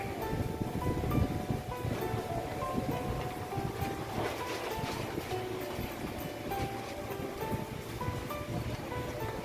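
Strong wind blows steadily in a constant roaring rush, with a deep low rumble underneath and no voices.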